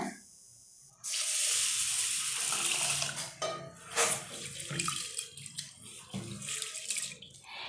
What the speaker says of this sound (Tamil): இதை நல்லா 5 நிமிஷம் ஊற வச்சு வடித்து தண்ணி இல்லாமல் எடுத்து வச்சுக்கோங்க.